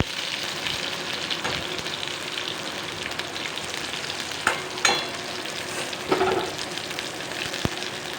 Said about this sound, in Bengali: গ্যাসের ফ্লেমটি একটু লো রেখে দেবো যাতে পটলগুলো ভালো করে ফ্রাই হয়ে যায়।